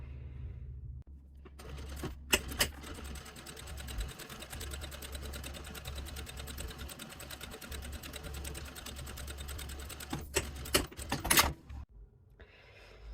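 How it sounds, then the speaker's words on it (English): A sewing machine top-stitching a fanny pack runs steadily in a fast, continuous stitching rhythm, starting and stopping with a few sharp clicks near the beginning and end. "we will take it back to the sewing machine and we will top stitch right there."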